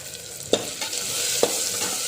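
Tomatoes, potatoes and peanuts frying in oil on a low gas flame for a Maharashtrian tur dal khichdi: a steady broad sizzle with two sharp spoon scrapes against the pan, no voices.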